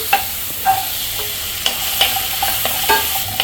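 Beans and carrots stirred into sautéed tomatoes in a hot pan, a continuous close sizzle broken by repeated scraping strokes of a spoon, loud and steady, with no voices.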